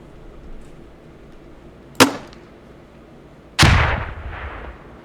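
Two grenade-launcher grenades exploding in the Squad military shooter game, each a sharp loud blast with a rumbling decay, the second heavier and longer than the first.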